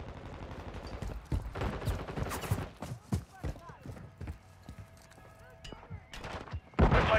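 Gunfire in Call of Duty: Modern Warfare III, with rapid automatic bursts and sharp single shots close by, mixed with game voice callouts and a loud burst near the end.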